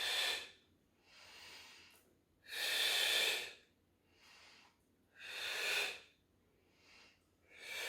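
Slow, deliberate breaths in and out during a Pilates exercise, close and airy, alternating long strong exhalations with softer inhalations in a steady rhythm of about five breaths, alone in a quiet room.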